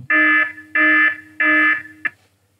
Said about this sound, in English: play an alarm.